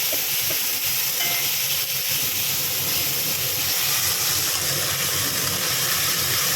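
A spice paste of ginger, cumin and tomato fries in oil in a wok with panch phoron and chilli tempering, a steady hissing sizzle throughout, continuous and fairly loud with no talk.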